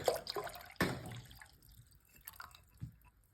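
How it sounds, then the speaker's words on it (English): More milk is poured into a whisked homemade cream soup base along with a bouillon cube, giving a few faint splashes and drips that trail off into near quiet. "you're gonna drop in a bouillon cube as well as some more milk"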